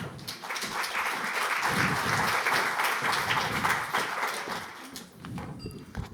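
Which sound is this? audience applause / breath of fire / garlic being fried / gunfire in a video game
audience applause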